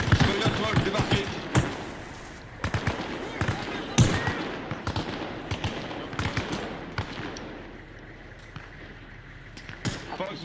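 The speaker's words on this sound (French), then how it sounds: "il y a des coups de feu, c'est sur vous" Sharp gunfire cracks in a video game, Arma Reforger, in irregular bursts, some single shots and some rapid clusters, over a steady background with muffled voices talking underneath.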